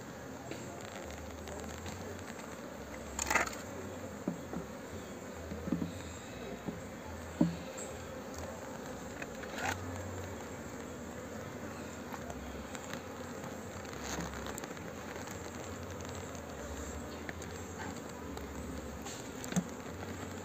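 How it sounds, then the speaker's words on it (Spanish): Foraging honeybees hum steadily around a nucleus hive as they return from the field, forming a continuous low buzz with occasional faint clicks and knocks. "ya comenzaron a llegar las pecoreadoras que llegan del campo"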